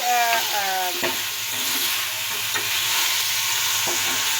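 Mutton karahi fries with ginger and garlic, a loud, continuous sizzle close by, with a few sharp scrapes and clicks as the pan is stirred.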